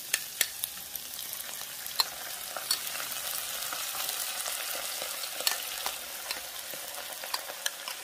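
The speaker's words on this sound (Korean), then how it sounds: "양념 지금 끓어오르고 있어요." Spicy anchovy stir-fry seasoning sauce, cooked with shishito peppers, boils and sizzles in a pan over reduced heat. The frying hiss is steady and close, with scattered sharp pops and crackles and no voices.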